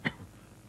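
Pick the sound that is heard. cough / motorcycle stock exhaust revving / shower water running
cough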